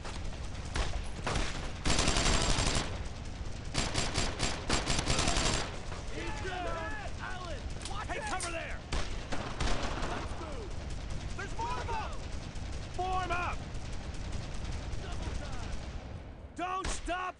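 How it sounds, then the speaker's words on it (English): Sustained machine-gun fire in the World War II shooter Brothers In Arms: Road To Hill 30, with dense, rapid bursts at first, then scattered shots and chirping ricochets continuing loudly throughout. "Oh, that's a machine gun."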